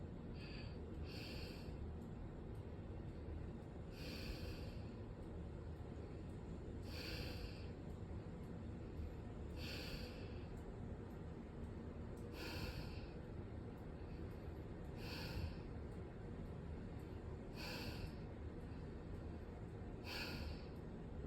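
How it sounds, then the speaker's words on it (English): Slow, audible breaths repeat about every two and a half seconds in a calm, even rhythm over a quiet steady background, each one soft and drawn out. "Exhale 8 breaths."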